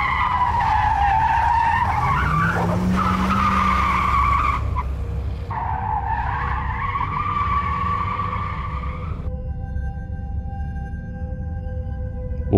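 Car tires skidding in a city-street car chase before a traffic accident, long loud screeching squeals that waver and rise over a steady engine roar, with a shorter squeal near the end.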